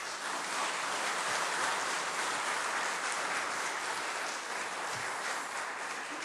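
Sustained applause from a church congregation at a Sunday service, a dense even wash of clapping held at steady loudness throughout.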